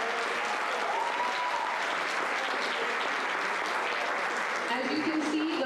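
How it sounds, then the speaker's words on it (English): Audience applause at a high school senior awards ceremony, a steady wash of clapping from a crowd heard at a moderate distance, with some voices mixed in under it. "Ladies and gentlemen, one more round of applause."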